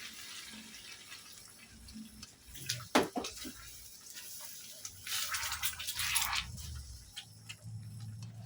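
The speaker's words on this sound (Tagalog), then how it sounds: "Lagay tayo ng konting tubig." Water splashes and trickles into a pot of eggplant and squash for pakbet for a few seconds amid quiet kitchen clatter, with a sharp metallic knock early on.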